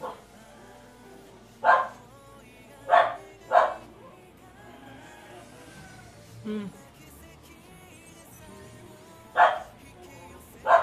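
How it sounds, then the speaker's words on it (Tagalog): A dog gives about six separate loud barks, spaced a few seconds apart, each one a short sharp burst over quiet background, with faint talk in between. "Ang aso."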